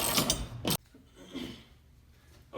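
A bolt on a PRx profile rack with kipping bar is tightened with a ratchet, giving a loud clicking burst up front followed by quieter mechanical clicks and handling noise.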